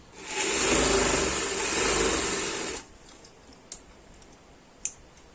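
A sewing machine runs steadily for about three seconds as it stitches a half-inch seam on a Punjabi kameez, then stops. A few faint clicks and taps follow. No voices are heard.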